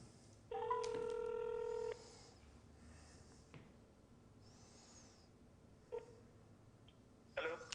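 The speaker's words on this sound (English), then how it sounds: "Let's see if I can get him on my phone." A telephone dials out: a loud, steady tone holds for over a second, then a few faint separate beeps follow, with quiet room noise and no talk between them.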